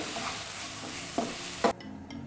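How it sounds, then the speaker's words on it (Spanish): Onion sautéing in a pan, a steady close sizzle broken by a few brief scraping stirs, the hiss dropping sharply near the end. "esto lo vamos a dorar aproximadamente durante 4 o 5 minutos hasta que la cebolla comience a caramelizarse"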